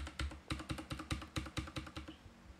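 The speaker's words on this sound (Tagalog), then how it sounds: "pwede mong gamitin dito yung arrow key sa keyboard" Arrow keys on a computer keyboard pressed in quick succession, about a dozen crisp, close clicks in a fairly even rhythm, then quiet.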